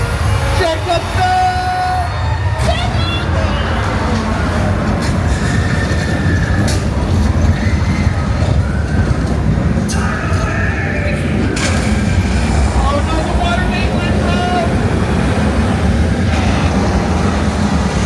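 A loud rumbling train roars past at close range on the Universal Studios studio tour, with metallic squeals and clatter over a constant heavy drone.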